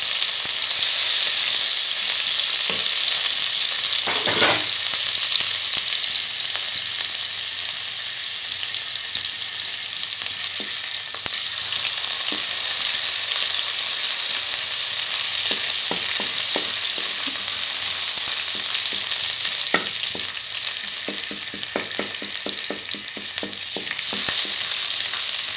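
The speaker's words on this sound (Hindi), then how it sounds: "और अब इसमें हमने ये लहसुन और अदरक का पेस्ट जो है वो डाल दिया।" Garlic and ginger paste frying in a light layer of oil for keema samosa filling, a steady close sizzle throughout with occasional stirring scrapes.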